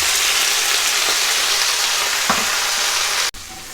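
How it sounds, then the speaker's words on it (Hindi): Nigella, mustard and cumin seeds sizzle in hot oil in a pan for a lemon pickle, a steady close crackling hiss that holds throughout, then briefly dips near the end. "हल्का सा फ्राई हो गई हैं कलौंजी, राई और ज़ीरा।"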